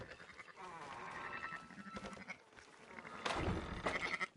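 Sheep in the Red Dead Redemption 2 video game let out a few close, wavering bleats among livestock noise, with a louder cry near the end.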